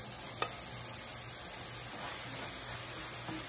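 Garlic sizzling gently in its own oil in a pan, a faint, steady hiss with an occasional soft tap of a utensil.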